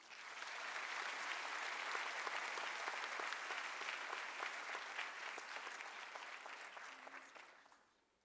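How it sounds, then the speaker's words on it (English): An audience at a university autumn graduation ceremony in South Africa breaks into dense, sustained applause that stays full and even for several seconds before tapering off and stopping. "And give us a round of applause."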